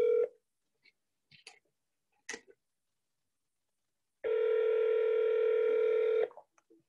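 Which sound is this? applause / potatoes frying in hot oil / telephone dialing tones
telephone dialing tones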